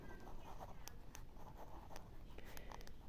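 Pen or chalk writing down a math answer, faint scratchy strokes with a few brief taps, quiet and close against low background noise.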